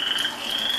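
A frog croaks in one short, close, moderately loud burst with no voices.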